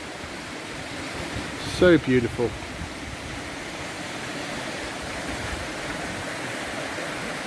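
Steady broadband rush of a stream flowing down toward a river beside a stone bridge on a valley hike, constant and fairly close, with a brief spoken comment partway through.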